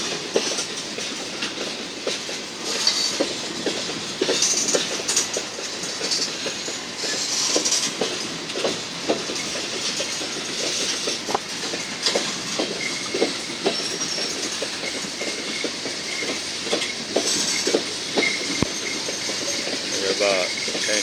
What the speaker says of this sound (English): It ain't that long a train.